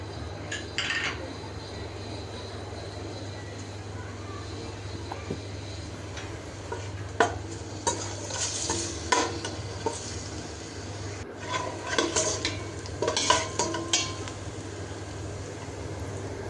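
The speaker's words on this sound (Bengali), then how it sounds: "এখানে পেঁয়াজ কুচি আর রসুন কুচি দিয়ে একটু ভেজে" Chopped onion and garlic fry in a pan with a soft sizzle, while a spatula clinks and scrapes against the metal in scattered bursts over a steady low kitchen hum.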